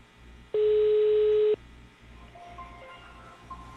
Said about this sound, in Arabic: التليفون بتاعي بيرن اهو